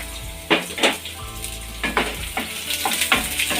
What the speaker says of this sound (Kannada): ಈಗ ಎಣ್ಣೆ ಕೂಡ ಕಾದಿದೆ ಇದಕ್ಕೆ ನಾವು ಈರುಳ್ಳಿ ಹಾಕೋತಾ ಇದ್ದೀನಿ